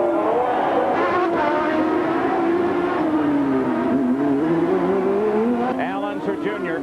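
A 1994 IndyCar field at the Long Beach Grand Prix street race, led by a Penske car, produces a loud, continuous engine howl whose pitch rises and falls through gear changes, with a commentator talking over it throughout.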